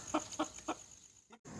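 Chicken clucking, three short evenly spaced clucks close by at low level, then a brief pause and a fainter final sound.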